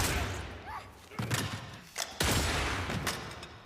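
Gunfire from the 2023 film Ballerina comes as several sharp, heavy shots and thuds fired in a quick irregular burst, mixed with other action noise and a voice talking over them.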